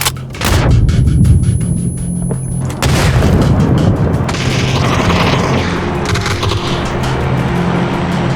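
A grenade explodes in the battle game PUBG with a loud boom, followed by a burst of rapid gunfire and continuing rumble of combat that stays loud throughout.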